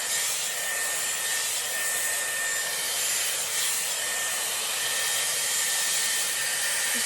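A Dyson Airwrap styler blow-drying hair through a round brush gives a steady, loud airy roar that holds at an even level from start to finish, with no voices over it.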